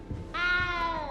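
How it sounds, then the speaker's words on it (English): A small cat in the video game Hogwarts Legacy lets out one clear, drawn-out meow that starts after a brief quiet moment and holds steady, close and fairly loud. "You don't need to be frightened, little cat."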